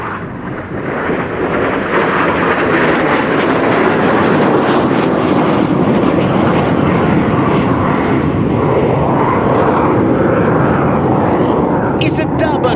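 An M-346 jet flies a cloverleaf aerobatic manoeuvre at an air force show, a loud continuous jet roar sustained throughout, with a commentator speaking over it.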